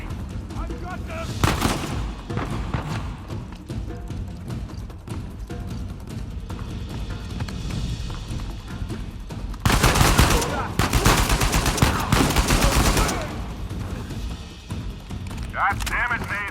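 Gunfire in the video game Uncharted 4, with dense bursts of shots and booms running through the action, swelling into a loud heavy barrage near the end under game sound and voices.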